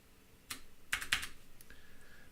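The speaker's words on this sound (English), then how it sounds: "by typing in the name of the application you want." Computer keyboard keys are tapped in a few quick, soft clusters, close and quiet, with brief pauses between the bursts of clicks.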